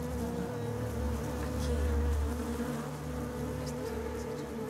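Large, deadly wasps swarm near ancient cave paintings in the Amazon, giving a dense, steady, close buzz with a low droning hum. The buzzing continues unbroken and fairly loud throughout, with no talking.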